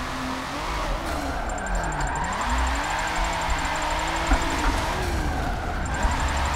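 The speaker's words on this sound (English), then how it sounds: "Listen to that turbo on this car." In the video game Forza Motorsport 7, a Kia Stinger's turbo engine drones continuously with rising and falling pitch, over a steady high whine, loud and close throughout.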